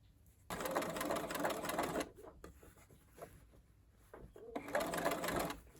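Sewing machine running in two bursts while top stitching a folded edge on a bucket hat, a steady mechanical whir that stops between runs, with light handling noises in the pause.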